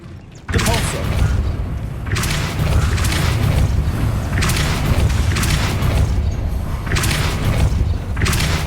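A Depulso spell cast in Hogwarts Legacy lands as a sudden loud boom, followed by a sustained rumbling magical whoosh with repeated swelling bursts of bright noise over a steady low drone.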